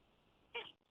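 A single short cat meow, faint and close, over a quiet hiss.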